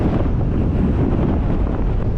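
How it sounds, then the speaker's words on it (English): Strong wind buffets the microphone, a continuous low roaring rumble with gusty fluctuations and no speech. "Still going, still windy."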